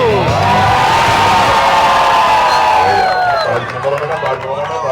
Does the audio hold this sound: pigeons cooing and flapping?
no